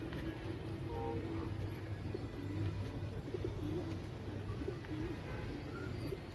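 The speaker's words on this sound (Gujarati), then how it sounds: "ટોટલ કબૂતર આપણા ઉડે ઉપર" Pigeons from a home loft coo in low, rolling murmurs while the flock is aloft overhead, a steady soft layer of calls with faint ambient rumble beneath and no talking.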